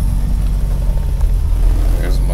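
A BMW E30 325iX with a turbocharged M20 engine run by a Speeduino ECU idles steadily, a loud, even low rumble that fills the whole stretch.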